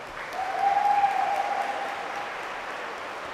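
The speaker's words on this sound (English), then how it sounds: "let's give them a round of applause also" Audience applause at a high school athletic awards ceremony, steady clapping that swells briefly then holds at an even level, with a faint tone running underneath.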